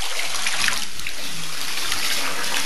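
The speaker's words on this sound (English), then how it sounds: "I'll put some warm water in here." Warm water pouring steadily into a small toy pool, a continuous broadband gush and splash that holds at an even level throughout, close to the microphone with no talking over it.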